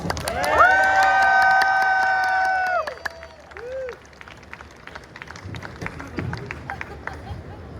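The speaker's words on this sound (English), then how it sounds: "One more time, everyone. Round of applause." Audience applause and cheering from a crowd at a Star Wars: The Clone Wars convention panel at Nostalgia Con 2025. A loud, sustained burst at the start gives way to a looser wash of crowd noise and scattered claps.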